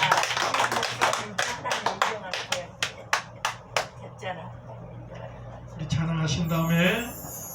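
A church congregation gives a short round of thank-you applause, sharp individual claps in a loose rhythm that thin out and fade, followed by a voice speaking alone.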